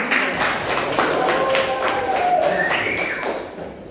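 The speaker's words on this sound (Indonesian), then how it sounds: "Itu tepuk tangan buat Pak." Classroom applause, a group of students clapping in a brisk, fairly loud burst with some voices mixed in, fading near the end.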